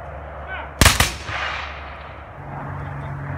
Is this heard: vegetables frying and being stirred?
no